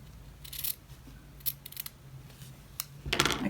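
Sharp scissors snip through fabric close to a seam in a quiet room, giving a few short, crisp cuts scattered across the moment, with a denser flurry of snips near the end.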